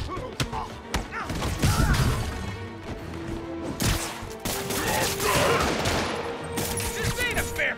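Gunfire bursts in Marvel's Spider-Man Remastered on PS5, shots and thuds mixed with crashes and game music, loud and fairly continuous, with shouted voices over the shooting.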